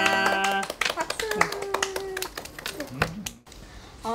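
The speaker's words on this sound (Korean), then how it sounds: "박수." A few pairs of hands clap in a brief, uneven burst on a Korean TV segment about a mother and daughter, close and mixed with voices and tonal sounds, ending in a short pause.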